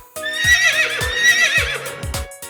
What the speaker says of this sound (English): Horse.